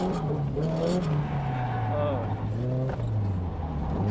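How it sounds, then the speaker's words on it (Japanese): A super-lowered drift car's engine revs up and down at moderate level inside the cabin while driving, the pitch rising and falling under a man's speech. "エンジンは普通に吹けるけどね。"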